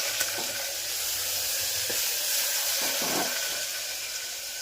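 Cumin, fenugreek powder and tomatoes hiss and crackle in hot oil for a tempering, a steady bright sizzle close up with a few soft pops and stirring clinks.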